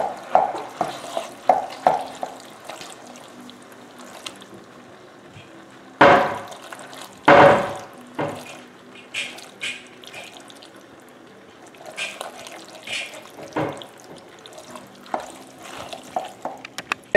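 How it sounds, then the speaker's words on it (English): Crushed tomatoes being stirred into a pot of taco soup, a spoon scraping and sloshing through the thick mixture in intermittent strokes, with a few louder clanks against the pot partway through, close up and without talk. "Just want to stir that in."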